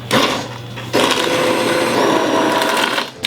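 A blender purees a reduced beef tajine sauce, its motor whirring loud and steady through two bursts, with a brief pause near the one-second mark before it runs on.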